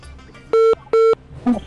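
Two bright, identical telephone line tones connecting a live call-in during a Ramadan iftar broadcast, close and clear, each lasting about a fifth of a second with a short gap between, followed by a brief muffled blip.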